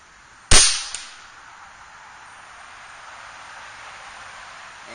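An Air Venturi Avenger .25 air rifle fires a single H&N Field Target Trophy pellet, one sharp close crack followed by a faint distant tick, then quiet outdoor hiss and light rustle.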